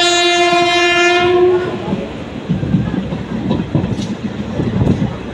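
A train horn blares loudly for over a second with stacked harmonic tones, then fades into the steady rumble and clatter of a moving passenger train.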